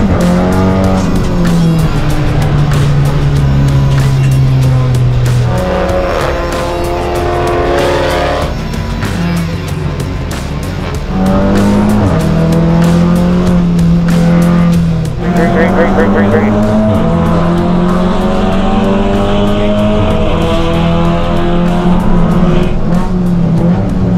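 Pirelli World Challenge race cars running a formation lap at Portland International, loud close engine drone with shifting, rising and falling pitch through gear changes, tire noise and an outdoor rush, heard under a voice.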